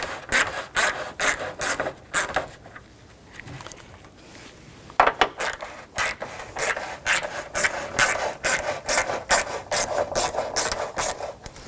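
A 13mm socket wrench works the top bracket bolts loose on an AC condenser of a 2000-2006 BMW X5 3.0L: a steady run of quick ratcheting clicks close by, with a brief pause partway, no voices.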